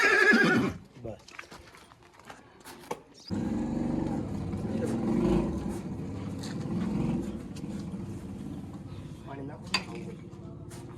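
A mare gives a loud, close whinny at the start, followed by a quiet stretch and then a steady outdoor rumble of passing traffic with a few clicks and knocks.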